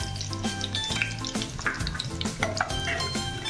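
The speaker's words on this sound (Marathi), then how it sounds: "तूप थोडं मेल्ट झालं की आपण इथे जे तमालपत्र आणि जिरं घेतलंय ते फोडणीला टाकूया," Bay leaf and cumin sizzle in melted ghee, a bright, crackling fry with scattered pops and light stirring, close and moderately quiet, with no talking.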